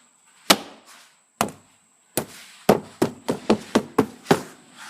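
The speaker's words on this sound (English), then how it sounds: "I'm just re-clipping all these clips in there" Plastic trim clips snapping into the interior driver's door panel of a 2002-2006 Toyota Sequoia: about ten sharp, close pops, sparse at first and then coming in quick succession.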